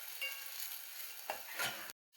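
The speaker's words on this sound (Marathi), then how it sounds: "कांदो चांगलो लालसर होईपर्यंत भाजून घेतलाय।" Onion fries in oil in a kadhai until reddish, a soft continuous sizzle with a couple of stirring scrapes near the end, close and fairly faint.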